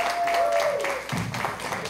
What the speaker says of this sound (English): Clap it up again for my mama.